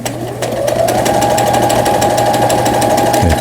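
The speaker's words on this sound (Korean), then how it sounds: "직선 바느질이 잘 되면 최고입니다." A Brother CS100 sewing machine runs steadily as it stitches a straight seam, a continuous close mechanical whir with a rapid needle rhythm holding for several seconds, with no talking.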